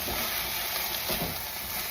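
Ramen noodles dropped into a pan of frying vegetables give a loud, continuous sizzle and hiss, with brief rustling stirs rising through the steady frying noise.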